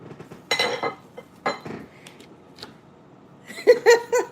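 Dish clinks and clatter as a plate is set down on a counter during seed harvesting, a few close knocks and rattles with a soft murmur of voices underneath.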